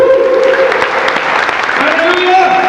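A church congregation claps loudly for the Lord, a thick round of applause mixed with raised voices and a held musical tone underneath.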